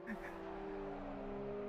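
Race cars in an endurance racing video game run side by side down the main straight, giving a steady, loud, continuous engine drone with a sustained tonal whine that holds throughout, nearby, under faint background voice.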